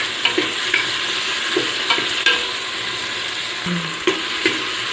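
Tomatoes and green chillies stir-frying in a pan for a chicken gravy curry, a steady sizzle with sharp spoon scrapes and clinks at irregular intervals, close and moderately loud, no talking.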